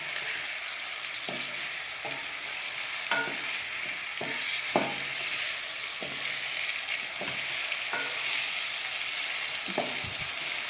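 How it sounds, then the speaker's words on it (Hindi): Chicken with garlic fries in a pan for a turnip curry, a continuous close sizzle with periodic scraping stirs of the spoon against the pan roughly every second, no voices. "दस मिनट तक हम इसको ऐसे ही भूनेंगे"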